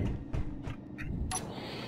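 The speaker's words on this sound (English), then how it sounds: "So when I hit this button here, it opens and closes the door." A door in the video game Space Engineers opens and closes, giving a short series of faint mechanical creaks and clicks followed by a brighter metallic clunk.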